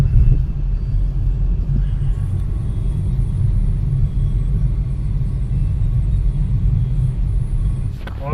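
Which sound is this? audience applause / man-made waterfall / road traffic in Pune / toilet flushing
road traffic in Pune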